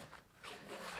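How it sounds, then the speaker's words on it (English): A zipper runs along the front pocket of a carry bag for a Blackstone 22 Adventure Ready griddle, a single short, quiet zip heard up close on its own. "it even has another zipper right here in the front"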